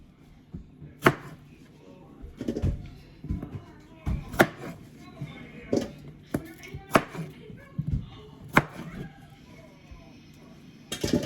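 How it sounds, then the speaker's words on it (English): Vegetables being chopped on a board for Jamaican vegetable soup, a series of sharp, irregular knife knocks close by, with quiet handling noises between cuts. "I wanna just cut it in good size so it still cooks good."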